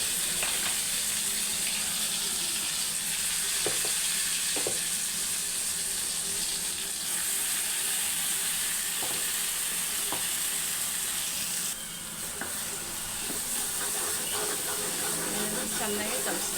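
Masala paste of onion, fresh coconut, tomato and garlic frying in a pan, a steady close hiss of sizzling with occasional scrapes of stirring running throughout.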